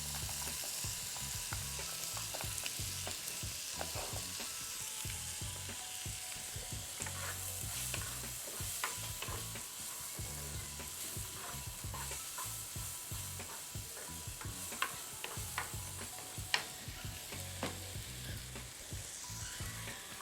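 Carrots stir-frying in a pan for crab and mushroom roselle fried rice, a continuous close sizzle broken by frequent scraping and clicking of the spatula against the pan, with no talking.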